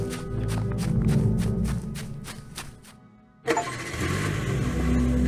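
A car engine starting in the horror game Welcome to Kowloon, a rhythmic cranking whir that fades into a brief near-silence, then the engine catches with a loud burst and settles into a steady running rumble.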